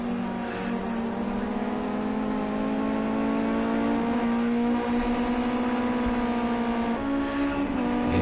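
A race car engine drones steadily and loudly at Donington Park National as it comes into the pits, its pitch holding almost constant with slight rises throughout, and no voices over it.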